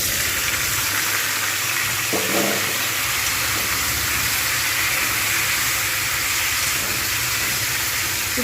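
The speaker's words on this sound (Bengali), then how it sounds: "তেলটা একটু গরম হবে এর মধ্যে এবারে দিয়ে দেবো টমেটোগুলো" Tomatoes go into hot oil in a home kitchen, setting off a dense, continuous, hissing sizzle that stays loud and steady throughout with no talk.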